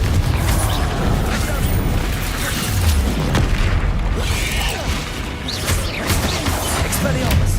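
Bombarda and Confringo spell blasts in Hogwarts Legacy, loud repeated booming bursts and crashes packed close together amid combat noise, with voices calling out.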